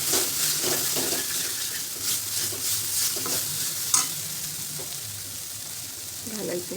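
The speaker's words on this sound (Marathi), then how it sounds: "ठेचा कच्चेपणा कमी होईपर्यंत परतून घ्यायचं।" Thecha, a crushed green chili and garlic chutney, sizzles and fries in a pan for vada pav while a spoon stirs and scrapes it steadily. The stirring is continuous and close, with one sharper clink partway through and no talking.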